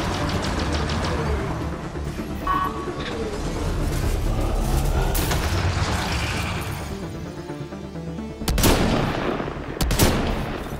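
Gunfire in the video game Mass Effect Andromeda during a fight with the Architect on Voeld, with rapid shots over a dense, steady battle din and a couple of louder blasts near the end.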